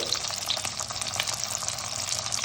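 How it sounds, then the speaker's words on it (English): Catla fish frying in mustard oil in a pan for Bengali spicy fish curry, a continuous close sizzle with light crackling and occasional stirring scrapes. "Fry both the sides nicely and try to make it in mustard oil"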